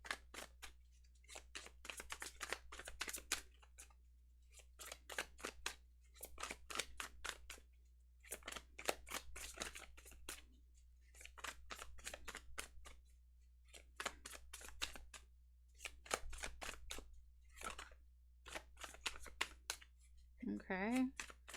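Tarot cards are shuffled in repeated bursts, crisp riffling clicks and flutters coming in short rhythmic bouts separated by brief pauses, close and fairly quiet.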